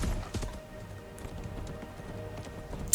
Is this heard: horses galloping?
yes